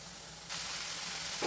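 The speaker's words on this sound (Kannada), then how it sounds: "ಈಗ ಇದನ್ನು ಕೂಡ ಚೆನ್ನಾಗಿ ಆಯಿಲಲ್ಲಿ ಫ್ರೈ ಮಾಡ್ಕೋಬೇಕು" Fresh fenugreek leaves fry in hot oil for a North Karnataka-style palya: a soft hiss that jumps to a louder, steady sizzle as the pan heats up, with no talking.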